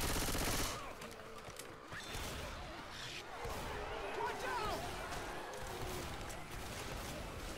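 Shotgun blasts and scattered gunfire in Left 4 Dead 2 survival on the Nach Der Untoten map, a loud burst at the start followed by quieter, irregular shots and clatter under ongoing talk.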